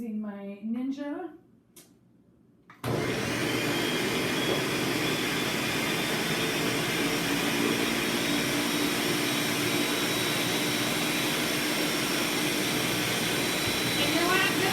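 A Ninja blender whirs loud and steady while pureeing a green smoothie, a constant roaring motor after a brief moment of speech and quiet at the start.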